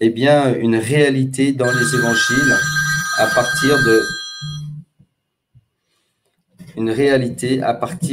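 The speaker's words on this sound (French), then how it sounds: "excusez-moi, c'est mon téléphone qui a sonné." A mobile phone ringtone plays as a steady electronic tone beneath someone speaking French during a lecture, then stops when he pauses.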